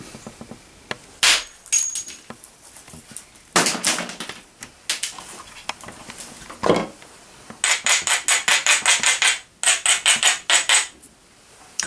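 Flintknapping a dovetail point replica in stone with copper-headed flakers and billets: scattered sharp strikes and scraping rubs, then a run of quick, regular abrading strokes, close and loud with no talk.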